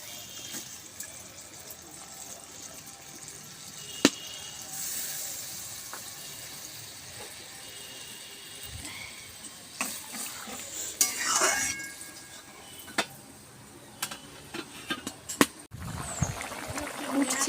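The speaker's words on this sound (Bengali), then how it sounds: "এবার এখানে যে নাজরা ডাঁটাগুলো আছে এগুলো আমি দিয়ে দেবো।" Drumstick stems dropped into a pan with potatoes and water, then stirred: scraping stirs, a few knocks of utensil on metal, and light bubbling, close by, with talk over parts of it.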